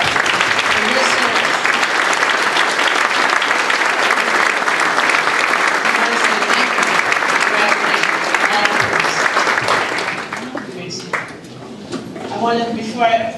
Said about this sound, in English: So let's give Mr. Sosa a round of applause.